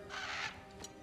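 A raven cawing in the God of War Ragnarök video game, one harsh rasping call followed by a shorter second caw, close and clear over a quiet game background.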